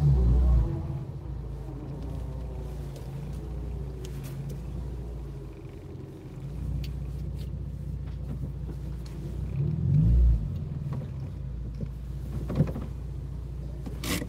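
A car engine idles low and steady, rumbling close by as the car backs slowly into a parking spot, with a brief swell in the rumble partway through.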